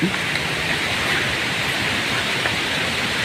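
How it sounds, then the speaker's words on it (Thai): Steady rain falls through a mountain forest near a waterfall in Chaiyaphum, a dense even hiss of drops on leaves that holds at a constant level for the whole stretch, with no voices over it. "ฝนลงมาแล้ว"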